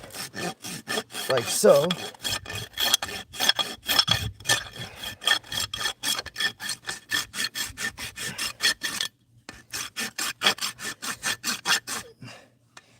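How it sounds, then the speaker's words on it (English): A farrier's rasp files around the outside of a horse's hoof in rapid, rhythmic rough strokes, close and loud, with a brief pause partway through. A voice speaks briefly. "all I'm going to do with this rasp is go around the outside of the foot"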